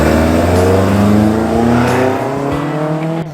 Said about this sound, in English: Stunning flat six powerhouse in this 911.